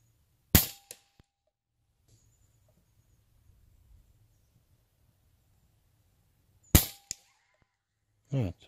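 Two sharp air rifle shots firing JSB pellets during a pellet test, each a loud crack with a brief ring, spaced several seconds apart with quiet between and a short muffled knock near the end.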